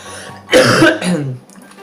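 A single harsh cough, loud and close, followed by a brief rougher throaty exhale, no talking.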